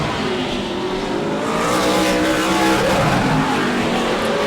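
A Super Late Model race car engine roars loudly and continuously during qualifying at Auburndale, revving and shifting pitch as it speeds past on a lap.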